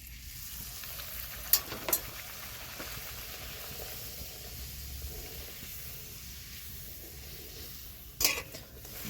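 Luchi (puri) frying in hot oil make a soft, continuous bubbling hiss, with a few sharp metallic clinks of a utensil near the start and end.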